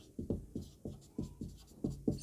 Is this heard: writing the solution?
yes